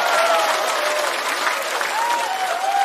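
Audience applause at a Chinese stand-up comedy roast show: dense, steady clapping from a large crowd fills the whole moment at a loud, even level, with faint sung tones woven underneath.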